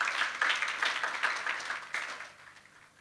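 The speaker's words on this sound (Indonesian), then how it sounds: "Berikan tepuk tangan dulu dong buat Tuhan dong." A church congregation claps together in a short burst of applause that swells and then tapers off, moderately loud and without talk.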